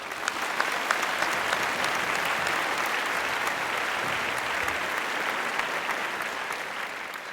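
Sustained applause from a crowd honoring canoe race winners at the Yap Canoe Festival, a dense, even roar of many hands clapping continuously from start to finish, with no talk over it.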